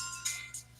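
A phone ringtone chirps in short bursts of electronic trilling, three brief pulses at a moderate distance against a low steady hum.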